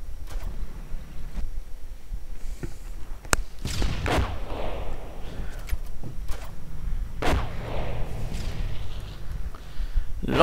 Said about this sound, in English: More booby traps going off. Looks like there was also an incendiary trap right there.